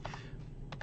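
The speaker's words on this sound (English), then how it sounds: "I've been typing for a while." A few light keystrokes on a computer keyboard, two soft taps early and two more near the end, quiet and close over a steady low background hum, no speech.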